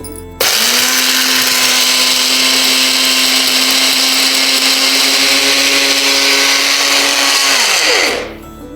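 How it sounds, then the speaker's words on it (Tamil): A mixer grinder grinds a herbal powder mixed with powdered sugar candy, switching on abruptly into a loud, steady high whine that holds for about eight seconds before winding down and stopping. "இருபது கிராம் அளவுக்கு கற்கண்டு பொடி இதெல்லாம் சேர்த்து நம்ம இப்போ பொடியை அரைச்சிடணும்"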